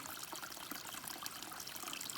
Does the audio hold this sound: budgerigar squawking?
no